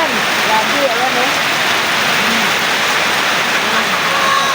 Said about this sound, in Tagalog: Sobrang malakas ng ulan.